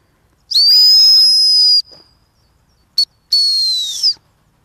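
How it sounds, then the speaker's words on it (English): A dog-training stop whistle gives a long shrill blast, a brief pip, then a second long blast, loud and close in a quiet field. "Didn't quite stop on the stop whistle"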